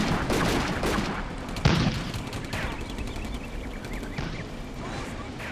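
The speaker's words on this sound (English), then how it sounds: "I think the artillery started falling, right?" Dense battle noise from the World War II strategy game Combat Mission: Afrika Korps at Bir Hakeim, with artillery shells landing amid steady gunfire, one sharp boom near the middle standing out over continuous rumbling fire.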